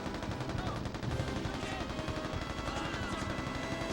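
Continuous heavy gunfire in the video game Mercenaries: Playground of Destruction, dense rapid automatic bursts filling the whole moment, loud and close with no pauses.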